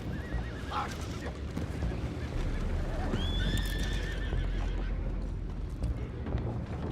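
Horses neighing in the video game Red Dead Redemption 2, several whinnies with clopping hooves over a steady wind-like rumble and ambient noise of the game scene.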